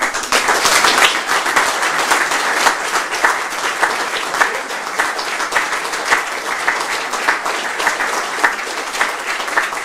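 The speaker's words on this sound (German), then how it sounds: "jetzt bitte mit kräftigem Applaus" Sustained, loud audience applause fills a hall as a German finance minister is welcomed onstage at a library's 30th anniversary ceremony with greetings and a fantasy-literature prize, dense steady clapping throughout.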